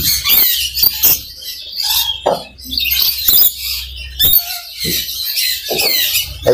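Rainbow lorikeets in a pet shop give loud, close, harsh squawks and shrill screeches in rapid, overlapping bursts with short pauses between.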